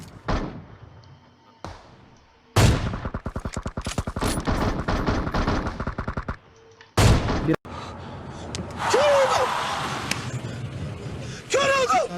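PUBG Mobile gunfire: bursts of rapid automatic shots and single cracks, loud and close, separated by brief quiet gaps, with in-game action noise between them.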